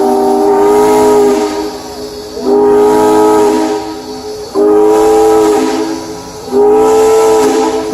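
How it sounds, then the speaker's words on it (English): Steam locomotive GSMR 1702 departing Dillsboro in 2018 sounds its warning whistle in four loud, sustained blasts with brief gaps between them, close by over a hissing background. "Warning whistle."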